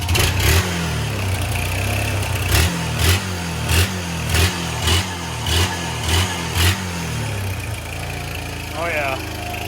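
A Honda Rancher ATV engine idles, then blips through a string of short, evenly spaced revs rising and falling close by, before settling back to a rough idle.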